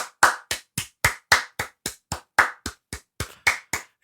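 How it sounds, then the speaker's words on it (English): Fifteen sharp hand claps in a steady, even rhythm, close and fairly loud, with no voices. "Let me clap for him."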